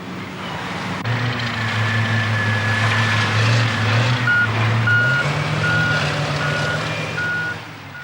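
A heavy haul truck carrying 40 to 50 tonnes of limestone rock at a quarry gives a loud, steady engine rumble, with repeated reversing beeps in the second half.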